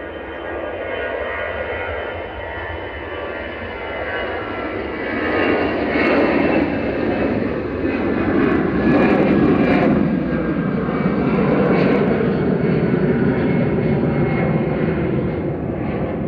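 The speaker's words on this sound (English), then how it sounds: "this is EasyJet rolling back to Amsterdam GZUT with flight 2167" An EasyJet airliner rolls back for departure to Amsterdam at Manchester Airport, its engines giving a steady, fairly loud broadband roar that swells midway and holds without talk.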